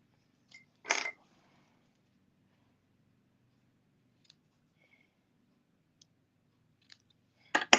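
Scissors snip ribbon ends off a rustic handmade holiday card: two short, crisp cuts seconds apart, close and quiet, with faint small ticks from handling in between.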